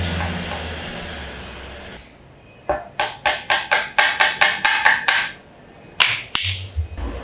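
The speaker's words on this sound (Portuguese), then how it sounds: "Eu vou vir com o martelo e vou dar uma marteladinha aqui só para a tampa soltar do outro lado" A hammer taps a 50cc motorcycle engine cover to loosen it, with about a dozen sharp metallic strikes in a quick, regular run, a short pause, then a few more close, loud knocks.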